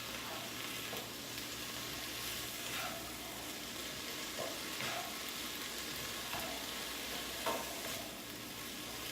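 Mushrooms and a breakfast scramble fry in a pan, giving a faint, steady sizzle with occasional soft scrapes of stirring and no voices.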